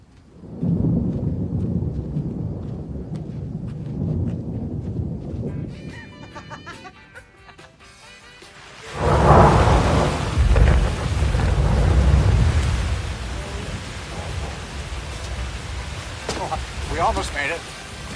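A storm from the 1982 film Psycho II: a low thunder rumble and rain build up, then a heavier burst of thunder and steady rain follows, with people talking.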